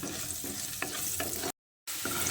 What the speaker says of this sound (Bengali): সঙ্গে অল্প একটু নুন আর হলুদের গুঁড়ো দিয়ে আলুটাকে লালচে করে ভেজে নিতে হবে।